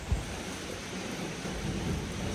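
Heavy rain pours down in a steady, dense hiss with a low rumble underneath, continuous and close, with no voices.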